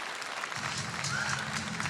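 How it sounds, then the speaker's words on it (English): Fan-event audience applauds wrestling referee Earl Hebner at FTLOW 2022, a steady wash of clapping under music. "Give a round of applause to the legendary Earl Hebner."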